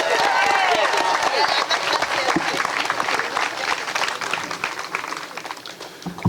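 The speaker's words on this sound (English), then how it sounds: "You all clap it up for him." Outdoor audience applause at a statue unveiling ceremony in Columbia, South Carolina, loud clapping with scattered cheers that starts strong and gradually thins and fades over about six seconds.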